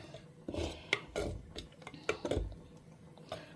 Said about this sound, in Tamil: இதை நான் அப்படியே கரண்டியாலேயே வச்சு கீரையை மசிச்சுன்ட்டேன்